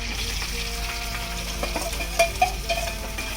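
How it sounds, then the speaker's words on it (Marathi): Onion, green chilli and garlic sizzle in hot oil, a steady frying hiss with a few sharper pops and crackles near the end, close and alone with no talk. "कांदा चांगला छान लाल रंग होईपर्यंत परतून घेऊ."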